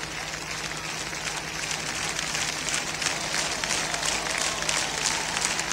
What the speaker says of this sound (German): Viel Beifall